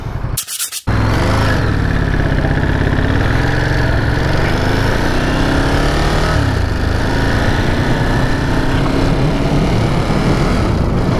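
A new Ducati Monster 937 motorcycle engine is heard while riding, a loud, continuous, close buzzing drone with wind rush and slight shifts in pitch as the rider moves along.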